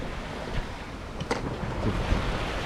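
Wind buffets the microphone over a sailing boat running under head sail only on a grey day, with a moderate swell of about 1.5 meters. Washing water surges and gusts come and go in an irregular rhythm.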